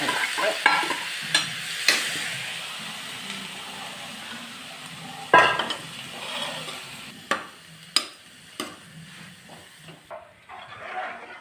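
Vegetables fry in a pan with a spice tempering added, giving a soft, steady sizzle broken by repeated scraping and clattering stirring strokes close by.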